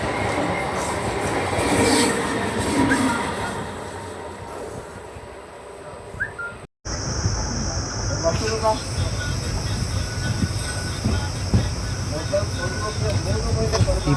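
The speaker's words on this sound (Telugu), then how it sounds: "ఇది వచ్చేసి మార్కాపురం తెనాలి ప్యాసింజర్." The Markapuram–Tenali passenger train passes close by, its steady rumble and wheel-on-rail clatter filling the scene with a high squeal of wheels later on, while people talk faintly in the background.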